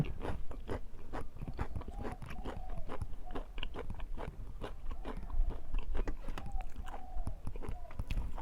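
Moist, crunchy chewing of a boiled egg eaten with a sour-salty dipping dish outdoors at midday, steady close bites and mastication repeating throughout, with a voice speaking faintly at times.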